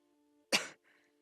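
A girl coughs once in the video game Hello Charlotte, a single short, close cough over a faint steady background hum.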